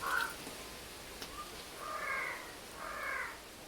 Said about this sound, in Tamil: காக்கா கோழி இது இது தொல்லை தாங்க முடியல எனக்கு அது எப்படி கத்துது பாருங்க